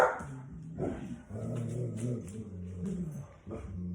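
A dog barks and yips several times close by, with whimpering tones between barks and no speech.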